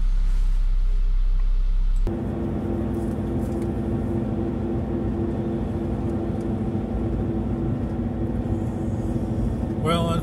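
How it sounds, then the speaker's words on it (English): Blizzak snow tires roar on dry pavement during a road test of a Subaru fitted with a stainless steel exhaust system, heard from inside the car as a steady, loud low rumble that masks the engine. "the loud sound of the Blizzak snow tires on dry pavement is drowning out the sound of the engine and the exhaust system"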